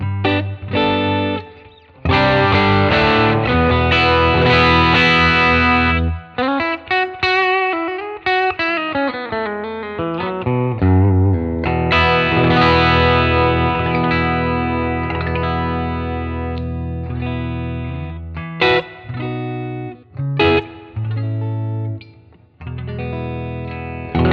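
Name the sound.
electric guitar through TONEX capture 3 of 1967 FDR Deluxe Reverb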